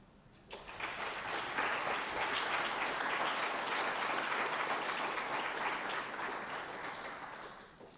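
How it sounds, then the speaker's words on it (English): An audience at a school speech day for pupils in years 7 to 9 breaks into sustained applause, a dense wash of clapping that swells quickly, holds steady and then slowly tapers off. "All those pupils receiving the Repton Values Awards. Round of applause."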